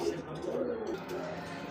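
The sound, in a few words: king pigeons cooing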